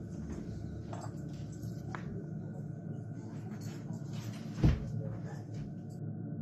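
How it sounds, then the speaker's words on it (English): A bedroom drawer sliding open on its own makes a single short rumbling thud midway through, close by, against a low steady background hum. "One of the drawers in the bedroom began to open all by itself"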